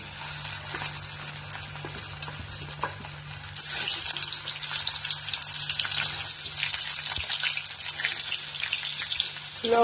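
Spice paste fries in a pan with a steady hiss that grows louder partway through, joined by a few stirring scrapes, no voices.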